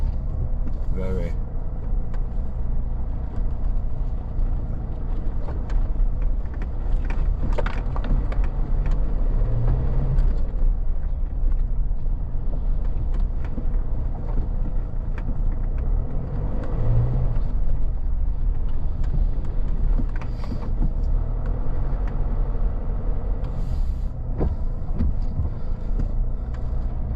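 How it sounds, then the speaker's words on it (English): Outdoor heaters run on a cold, misty day, producing a constant loud rumbling drone that fills the whole stretch, with a voice talking over it. "I hope you could hear me then over the heaters"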